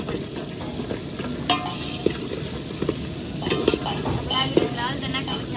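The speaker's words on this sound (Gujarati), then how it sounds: "આવી રીતે હળદર નાખ્યા પછી આપણે હલાવવાનું" Turmeric stirred into hot oil crackles and sizzles in a pan, with a spoon scraping and tapping against the metal in irregular strokes, close and continuous.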